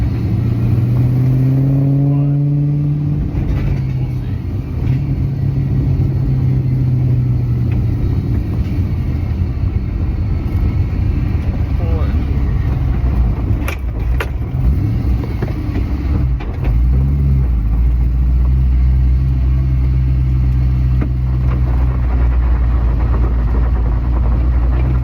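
An LS V8-swapped BMW E60 sedan with a welded differential drives on a public road, its engine a loud, close, rumbling drone that rises and falls through revs with deep low-end throb throughout.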